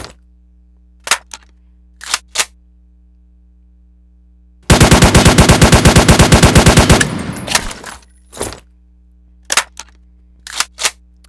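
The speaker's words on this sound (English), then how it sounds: "I wouldn't recommend shooting them all at once. Otherwise, something like this is going to happen." Several automatic guns firing at once in the Roblox War Tycoon video game: a loud, dense two-second burst of rapid shots that trails off, with a few isolated single shots before and after.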